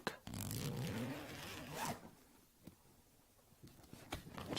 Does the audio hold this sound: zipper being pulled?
yes